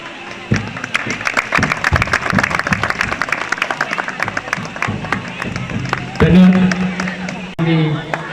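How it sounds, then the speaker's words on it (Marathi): A village gathering in Khed, Ratnagiri, claps at a felicitation ceremony, a dense patter of many hands that runs for several seconds before voices and a loudspeaker take over. "जोरदार टाळ्या वाजवा"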